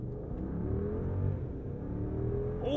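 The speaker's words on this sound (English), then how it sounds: "Oh, the V8." Mercedes-Maybach S 580 V8 engine launching from a standstill in sport mode, heard from inside the cabin: a steady, moderately loud rising engine roar that builds smoothly through the acceleration.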